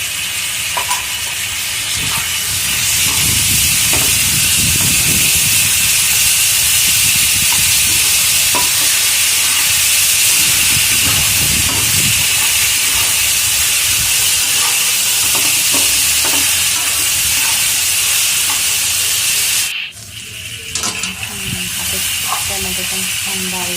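Tomatoes roasting in oil in a pan for a Marathwada-style sushila breakfast dish, giving a steady loud sizzle and hiss with stirring scrapes, a brief pause near the end, and a voice talking over it.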